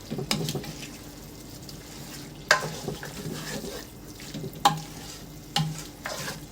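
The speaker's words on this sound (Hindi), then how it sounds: "मीडियम आंच पे फ्राई कर रही हूँ।" Mutton for shaljam gosht frying in ghee over medium heat, a steady sizzle broken by a few sharp scraping stirs of the spoon against the pot, close and moderately loud.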